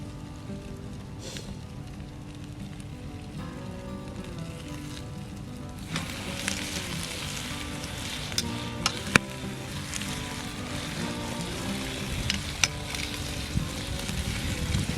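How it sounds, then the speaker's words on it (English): Steady crackling sizzle of a hamburger cooking over a winter campfire, close and continuous, with occasional sharper pops and a low background hum. "Ooh, sizzles."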